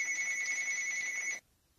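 A telephone rings with a steady two-tone electronic trill, fairly faint, lasting over a second and then cutting off to near silence.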